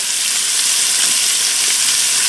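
Onion sizzling in a hot, smoking cast iron pan, a loud, close, steady hissing crackle that does not let up.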